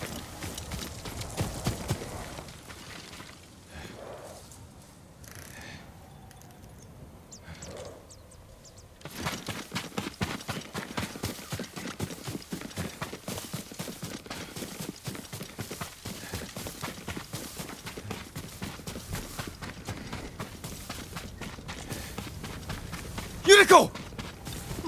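Horse hooves clip-clop in Ghost of Tsushima, a steady rapid run of light hoof strikes that grows busier partway through, with a sharp thump near the end; spoken dialogue also occurs.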